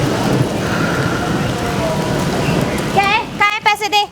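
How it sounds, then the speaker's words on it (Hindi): Steady heavy rain pours down on surfaces outdoors, a dense hiss that breaks off near the end as people start talking. "यहाँ तो बारिश हो रही है"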